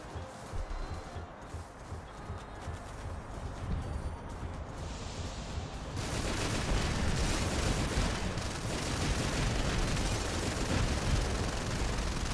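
Weapons fire in the War Robots video game as a dense, continuous barrage of gunfire and explosive blasts, which grows louder and heavier about halfway through.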